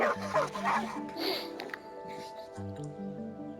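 A ninja dog of the Shimatsuban in the video game Genshin Impact gives soft whimpers and yips over a looping background music score, close and fairly quiet, with spoken dialogue nearby.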